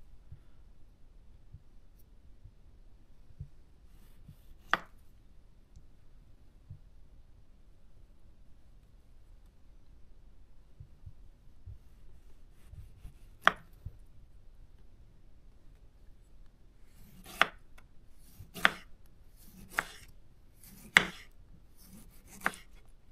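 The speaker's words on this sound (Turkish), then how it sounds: "Bir tane domates doğrayacağız. İnce ince doğrayalım." A Zwilling self-sharpening kitchen knife thinly slices a tomato on a board. Two isolated taps come first, then a quick run of about six crisp, close cutting strikes in the closing seconds.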